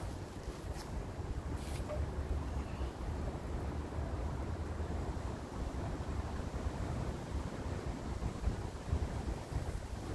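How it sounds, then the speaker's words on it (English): Wind rushes steadily across the microphone on a windy day in a park, a continuous low roar with no pauses and nothing else standing out. "Windy day in the park."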